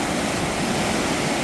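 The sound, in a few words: strongly flowing water at Balamuri waterfalls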